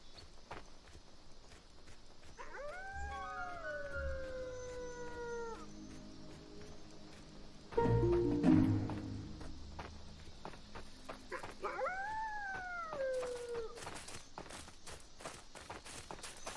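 Wolves howl in the survival game Aska, two separate drawn-out howls with rising and falling pitch a few seconds apart, over ambient game noise, soft footsteps and a brief thud between them.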